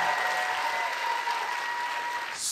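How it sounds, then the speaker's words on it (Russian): Steady applause from an audience at a church summit in Rome, a continuous wash of clapping held at an even level throughout, with no speech over it. "Sono solo questi gli applausi?"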